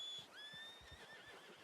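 A horse in a video game gives a clear, drawn-out whinny with a falling pitch, alone and close, over soft hoof-like thumps.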